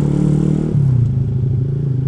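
A Triumph Daytona motorcycle engine rumbles close by with a deep, throbbing exhaust note that drops and settles into a steady idle-like growl.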